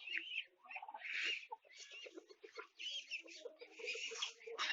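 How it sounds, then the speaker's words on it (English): A flock of BV-380 layer hens, about four months old, on a poultry farm, clucking and squawking in overlapping calls that run continuously at a moderate distance. "These are the female chickens. BV-380 chicken."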